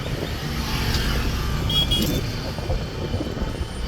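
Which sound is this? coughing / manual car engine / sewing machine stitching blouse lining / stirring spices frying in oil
manual car engine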